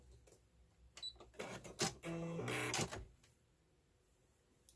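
A sewing machine runs in short bursts while stitching fabric for a phone bag, with a few quiet clicks and then a brief, fairly faint run of mechanical whirring and rattling stitches before stopping.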